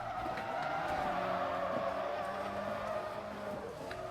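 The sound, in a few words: Miata car drifting in Forza Motorsport 3 video game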